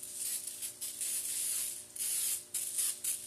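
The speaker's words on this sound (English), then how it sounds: "I got some Lysol spray here, so I'll just spray it down." Lysol disinfectant spray hisses from an aerosol can in a few long, steady bursts separated by short pauses, close and fairly loud, with no talking.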